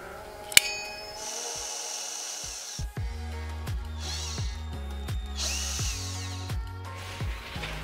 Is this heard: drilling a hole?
yes